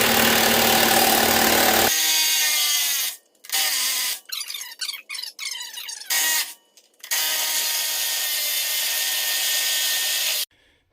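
An impact wrench zips the wheels off a Peterbilt 379 truck, loud steady whirring runs broken by short rattling bursts and brief pauses, close up, preceded by a droning engine-like hum.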